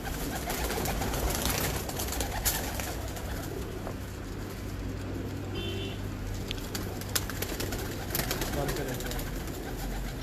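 Champion racing pigeons on a rooftop in Multan, soft low cooing repeating under steady outdoor noise, with occasional flutters and a faint voice nearby.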